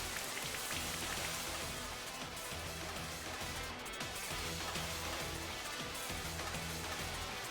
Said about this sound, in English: There goes a Rain Dance from the Articuno.